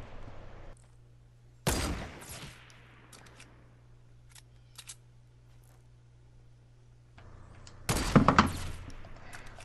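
Sniper rifle shots in Fortnite, two loud sharp cracks several seconds apart with a trailing echo, plus a few faint mechanical clicks in between over a low steady hum.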